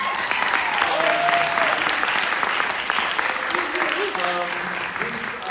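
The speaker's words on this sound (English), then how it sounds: "Can we just take a second to give them a round of applause?" An audience at a talk on choreography and emerging technology applauds the event team, with sustained group clapping heard alongside some talking and brief tonal sounds in the room.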